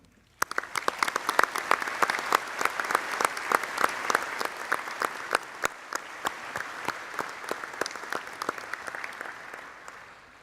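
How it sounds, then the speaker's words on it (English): A large graduation ceremony audience applauds university staff, a dense, steady clapping that starts abruptly, holds at full strength for about ten seconds, then begins to thin near the end. "ask once again that you join me in applauding them"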